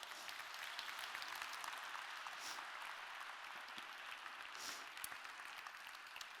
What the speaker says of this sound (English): a round of applause for Kai Bond, please.